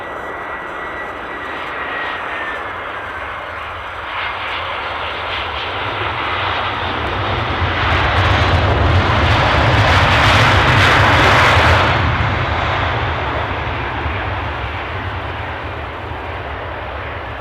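Airliner engines roar steadily at Edinburgh Airport during evening plane spotting, a loud, continuous drone that swells to a peak midway as an aircraft passes and then eases slightly, with no talking.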